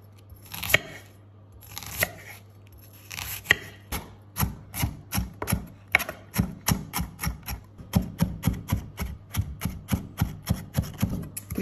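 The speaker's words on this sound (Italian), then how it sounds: "Iniziamo tritando finemente la cipolla." Knife chopping onion finely on a board for guacamole, a run of rapid, close, crisp taps that start sparse and settle into a steady, quick rhythm.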